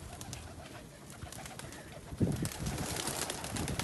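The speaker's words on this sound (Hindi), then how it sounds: "एक कबूतर मैंने जोड़ों के लिए रोका हुआ था" A pigeon coos nearby in soft, low repeated calls over a busy background, growing a bit louder toward the end.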